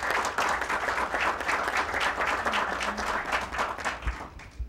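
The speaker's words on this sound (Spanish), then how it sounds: "Recibámosle con un fuerte aplauso." A large audience applauds steadily and loudly to welcome a licensed speaker at a music-rights colloquium, the dense clapping sustained for several seconds with only a faint voice underneath near the end.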